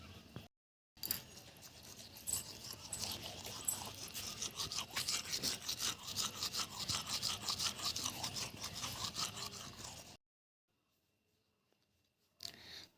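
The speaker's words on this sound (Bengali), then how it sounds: "আমি ঘুম থেকে উঠে ব্রাশ করছি" A toothbrush scrubs teeth in a morning routine, producing close, steady, rhythmic bristle strokes for about nine seconds, then quiet, with a short burst of scrubbing again at the end.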